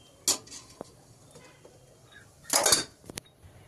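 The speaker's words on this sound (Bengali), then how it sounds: "এবার আমি এগুলোকে এই ইডলি মেকারের মধ্যে বসিয়ে দেবো।" Metal idli plates clatter and clink as they are set into an idli maker in a home kitchen, two short bursts of metallic rattling close by, the second longer, with no talking.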